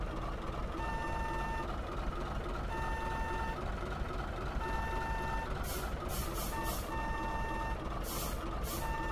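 Truck reversing beeps in Farming Simulator 2013, a regular series of evenly spaced electronic beeps over a steady low engine rumble, fairly quiet, with a few short hissing bursts near the end.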